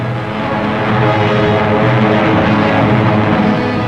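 A propeller-driven engine of a 1934 Martin B-10 all-metal bomber drones loudly and steadily, a constant throbbing hum that fills the whole stretch without breaks.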